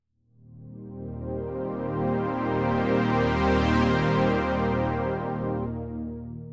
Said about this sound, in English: That is a beautiful Juno 60 sound.